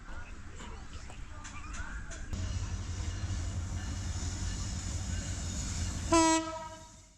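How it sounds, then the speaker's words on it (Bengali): Burimari Express, a Bangladesh Railway intercity train, rumbles steadily at Ishwardi railway station in a village setting, then sounds one loud horn blast near the end of the clip. "আমরা আসতেই ইতিমধ্যে একটি ট্রেন দেখতে পাচ্ছি তো এটি হলো বুড়িমারা এক্সপ্রেস"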